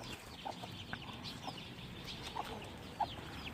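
Chickens cluck softly in short, scattered calls at a moderate distance, with a few sharper clucks standing out against quiet background.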